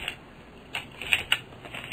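Keys clatter on a computer keyboard in a sparse, irregular run of light clicks, a few sharper taps standing out over a quiet background with no talking.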